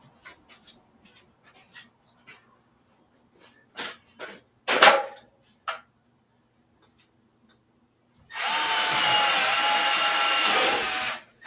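Power drill driving screws into a wooden bench leg: scattered ticks and short knocks, then a steady whirring burst of the drill lasting about three seconds, close and loud.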